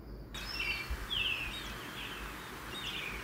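Recorded bird call played back from a birding website, a few thin high chirps and short descending whistles repeated over steady background hiss, moderately faint.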